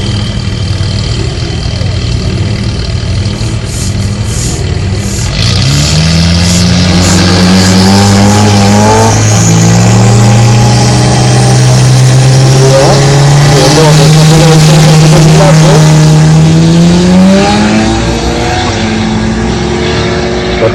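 A BMW 318 E30, probably turbocharged, accelerates hard down a drag strip; the loud engine note climbs steadily through the gears for about twenty seconds, close and dominant.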